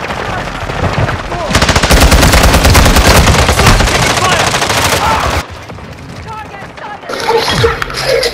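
Heavy shotgun buckshot fire in Call of Duty: Modern Warfare II, loud and dense for several seconds, then dropping to quieter scattered shots and clatter as a voice talks over it.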